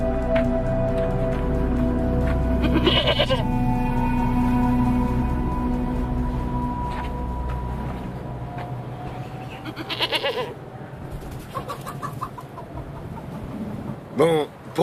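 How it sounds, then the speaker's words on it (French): A goat bleats loudly several times close by, over a busy background with other sounds and some voices. "nous vous offrons cette chèvre en signe de respect et d'entente cordiale"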